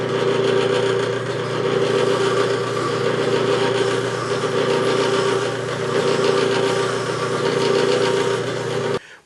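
A small sanding drum fitted with a sleeve spins in a drill press against wood for a serving tray, giving a steady, loud motor hum that runs unbroken before cutting off abruptly at the end.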